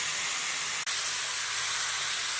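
A kitchen pressure cooker, cooking a Maharashtrian avarekai sambar and mung bean usal, lets off a steady, continuous hiss of escaping steam, heard alone at moderate volume with one brief dip partway through.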